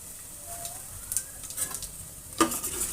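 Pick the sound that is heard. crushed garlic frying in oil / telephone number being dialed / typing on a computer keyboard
crushed garlic frying in oil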